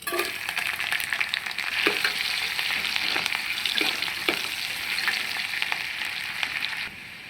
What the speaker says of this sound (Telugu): ఇప్పుడైతే తాలింపు ఇలా దోరగా వేయించుకున్నాం